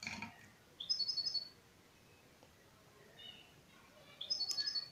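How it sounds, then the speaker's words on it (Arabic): Two short bursts of high chirping from a bulbul, a Moroccan bird that eats cheese, rising above a quiet background, one near the start and another near the end, with a faint twitter between them. "إنه بلبل يحب الجبن."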